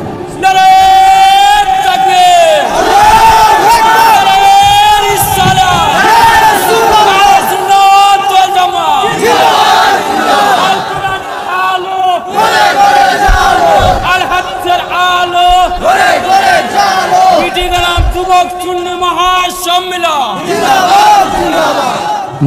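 A crowd at a religious gathering chants slogans in loud, rhythmic unison, voices rising and falling in repeated call-and-response phrases that fill the space without pause.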